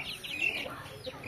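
One-month-old Pacha Kaki cross chicks cluck and cheep softly in a brief, faint burst of high chirping calls close by.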